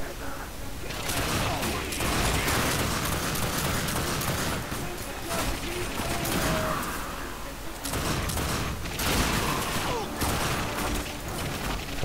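Gunfire in The Darkness 2 video game: dense, continuous bursts of shots and mechanical clatter fill the whole stretch, loud and close, with brief dips in between.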